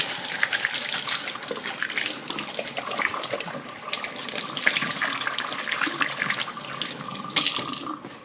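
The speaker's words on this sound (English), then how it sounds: "Wash my hands off." A kitchen tap runs steadily while hands are washed beneath it, a close, continuous splashing gush that lasts throughout with slight changes as the hands move in the stream.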